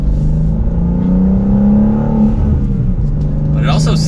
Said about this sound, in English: Now on my downshifts there, this does have built-in rev matching.